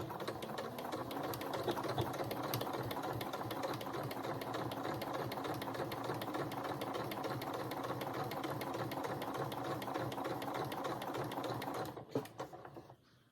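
A sewing machine runs steadily for about twelve seconds while back stitching on a dress, its rapid needle clatter close and even before it stops abruptly.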